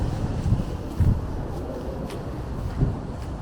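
Gusty wind on a city street at night in Toronto's Broadview Chinatown in January, a broad rumbling roar with soft buffets against the microphone and no voices.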